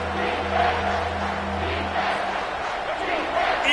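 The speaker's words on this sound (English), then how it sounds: "3rd down, and this crowd is bringing down the house." A packed football stadium crowd roars on third down during a UCLA versus Arkansas game, a loud sustained wash of cheering and noise filling the whole moment.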